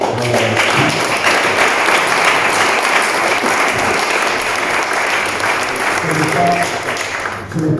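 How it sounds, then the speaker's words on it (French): An audience at a literary society conference-debate in Liège applauds a guest MEP, sustained and fairly loud clapping with faint voices mixed in underneath. "il faut quand même l'applaudir"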